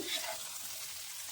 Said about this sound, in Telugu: ఒక 5 నిమిషాలు అలా ఫ్రై అవ్వండి